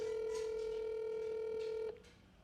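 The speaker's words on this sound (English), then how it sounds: "Dad, answer the phone." Outgoing phone call ringback: a steady, moderately loud single tone sounds for nearly two seconds, then cuts off, leaving quiet line hiss.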